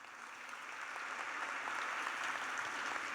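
Audience applause at a graduation ceremony for absent graduates, a steady wash of many hands clapping that swells slightly and holds evenly throughout, heard fairly distant and alone without speech.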